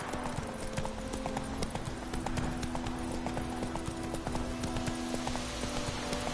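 Hooves of the horse Roach in The Witcher 3 pound in a steady galloping clip-clop, close and continuous, with a faint whinny here and there and no speech over it.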